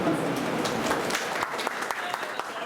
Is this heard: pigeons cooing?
no